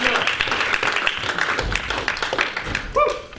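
An indoor audience at a talk gives a round of applause, a lively clatter of many hands that thins out toward the end, with some talking underneath.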